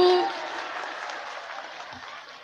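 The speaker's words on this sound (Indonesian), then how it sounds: "Wah, tepuk tangan dulu dong buat Muni." An audience claps at a lively gathering with uniformed officials, a dense burst of applause that starts loud and holds steady, fading only slightly across the short stretch.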